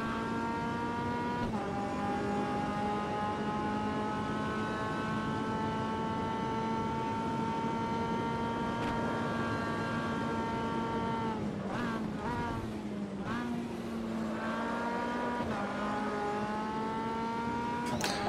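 An MCR 2000 race car on the Brasilia circuit in Automobilista screams through the gears, its engine whine climbing in pitch, dropping at a shift around the twelve-second mark, then climbing again, loud and continuous with no talking.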